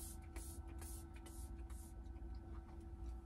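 An air freshener, likened to a stronger Febreze, is sprayed inside an RV during a snow storm: about four short hissing bursts in quick succession over a low background hum, with no talk.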